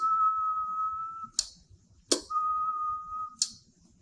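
A person whistles steady, sustained tones into a radio microphone for a homebrew QRP SSB transceiver, the I-SINA V3.2, on the 80-meter band at 3.8 MHz, with sharp clicks between the two held whistles.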